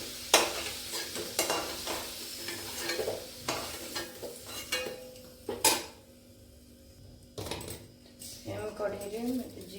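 Potatoes fry in a pan with a soft, continuous sizzle, broken by sharp clatters of a spoon stirring and knocking against the metal, heard up close while a voice speaks briefly near the end.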